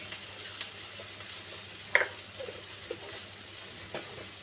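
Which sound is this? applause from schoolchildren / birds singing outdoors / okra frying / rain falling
okra frying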